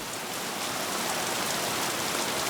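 Steady, dense rain pours down just beyond a veranda, a loud, even hiss of drops hitting surfaces with no pauses and no voices.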